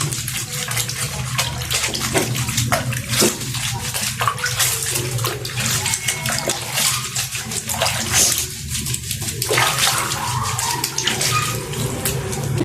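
Water sloshes and splashes steadily in a bath basin steeped with medicinal leaves, the stirring loud and continuous for the whole stretch, with no voices over it.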